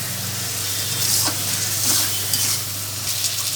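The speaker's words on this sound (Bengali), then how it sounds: "মশলাটাকে যাতে কাঁচা গন্ধ না থাকে রসুনে, সে অবধি ভালো মতো একটু ভেজে নিতে হবে।" Ginger garlic spice paste frying in a pan for a desi chicken curry, with a continuous close sizzle, soft stirring scrapes and a faint low hum underneath.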